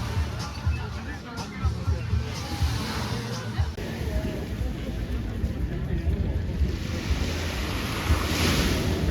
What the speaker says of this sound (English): today I'm at another beach, just got here